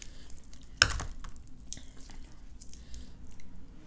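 A fried chicken bone crunches between the teeth in one sharp, close crack, then gives way to softer, wet chewing and small crunches at close range.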